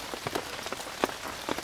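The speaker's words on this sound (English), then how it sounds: "it's still raining quite heavy" Heavy torrential rain pours down steadily outdoors beside a campfire, a dense continuous hiss with scattered louder drops striking close by.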